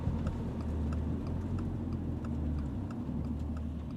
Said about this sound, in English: like the turn signal sound